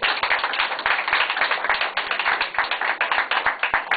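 A lecture audience at a talk on 21st-century socialism claps steadily and densely for the full stretch, a close, crisp patter of many hands with scattered sharper individual claps.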